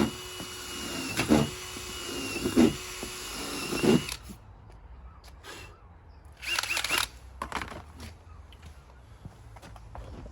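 Power drill boring holes into a camper van wall panel to make room for a jigsaw blade, a few short close whining bursts separated by pauses, with handling noise between them.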